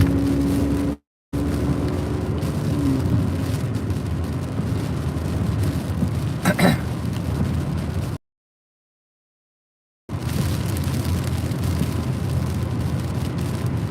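Rain drums steadily on a car driving through a storm near Norman, Oklahoma, a dense broadband wash that fills the clip, with one brief brighter burst midway and two short gaps of silence.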